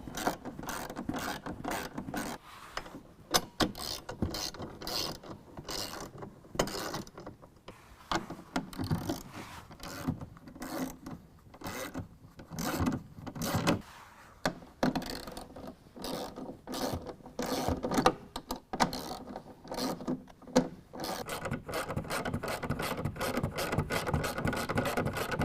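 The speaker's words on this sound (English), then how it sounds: "we can use our 10mm and we can go ahead and tighten all of these bolts down" A 10mm ratchet clicks in rapid, repeated bursts while tightening bolts on a Decked truck bed storage system in a 2016 Toyota Tacoma, with short pauses between runs and no talking.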